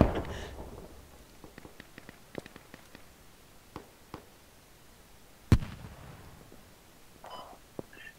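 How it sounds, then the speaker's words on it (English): Rockets fired and exploding in the video game Squad: a string of sharp, distant-sounding blasts and cracks over a low rumble, with one loud, close explosion near the middle and a few fainter pops afterward. "They are throwing rockets."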